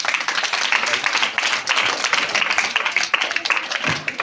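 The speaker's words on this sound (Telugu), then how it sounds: "చప్పట్లు కొట్టండి." Children applauding at a Children's Day prize-giving in a village, a steady wash of many small hands clapping throughout, fairly close and busy, with faint voices mixed in.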